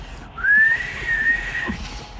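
A person whistles two drawn-out, slightly wavering tones close by, the first rising then holding, the second held more softly, with quiet room noise underneath.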